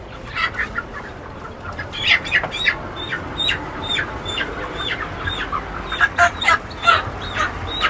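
Broiler chickens at Kawran Bazar market cluck and squawk in a busy stall, repeated sharp calls from several birds over a steady crowd murmur, close and fairly loud.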